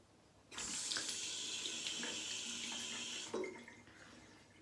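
Bathroom sink water with the plug left in: a loud rush of running water for about three seconds, then a quieter gurgling drain as it goes down.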